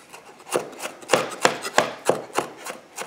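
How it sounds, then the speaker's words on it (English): A knife minces saffron with shallots or onions on a cutting board, about ten crisp, evenly spaced chops with short scraping rubs between them, close and clear with no talking. "More flavor comes out if you mince the saffron with shallots or onions"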